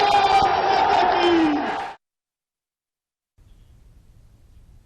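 A crowd at Modi's Ghazipur rally cheers and shouts loudly for about two seconds, then falls silent. A faint low rumble follows.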